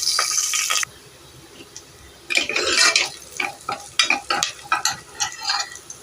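Mustard seeds, onion and curry leaves crackle and sizzle in hot oil on a stove for chenna masala, with a spoon stirring and scraping the pan in quick bursts, close and alone with no talking.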